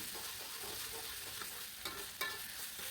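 Ground spice paste stir-frying in a pan, a steady close sizzle and scraping with a couple of sharper stirring clicks near the end.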